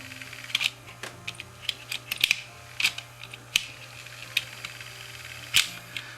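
A cheap Maxell DV tape rewinder running with a cassette loaded, giving off faint, irregular plastic clicks and ticks over a low mechanical hum, close and quiet.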